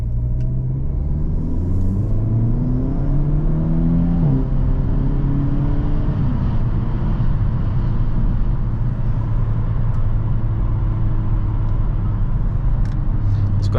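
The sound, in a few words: Hyundai Elantra N engine while driving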